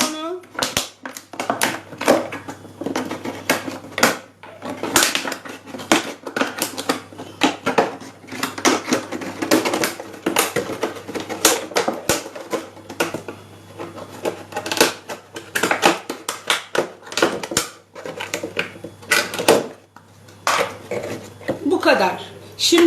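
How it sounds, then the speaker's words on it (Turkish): Repeated sharp snips of scissors cutting through a plastic bottle for a bird feeder, coming in quick irregular bursts close by, with a person talking over much of it. "Şimdi makasla kesiyorum."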